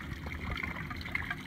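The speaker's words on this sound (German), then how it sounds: "kann man hier Wasser anmachen" Water runs from a small faucet at a boat's galley sink, a faint, steady trickle lasting only a moment.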